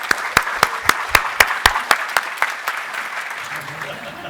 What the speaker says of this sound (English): let's have a big round of applause for the 2018 Drake Award recipient